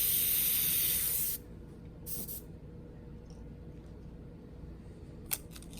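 An airbrush spraying paint with a steady hiss that cuts off, followed by brief sputtering bursts and spits of air from paint that needs thinning.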